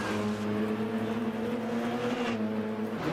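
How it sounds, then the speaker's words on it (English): Throaty race car engine in a sim racing game, revving hard and close with quick gear changes as the pitch steps through a steady high drone. "You can hear it, the constant gear shifts."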